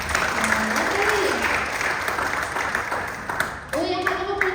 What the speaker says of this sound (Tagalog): the best na palakpak